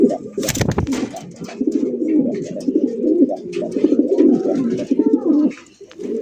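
Rasgolla-coloured pigeons coo steadily and fairly close for the whole stretch, with a sharp broadband burst near the start, other birds faintly calling, and no talking.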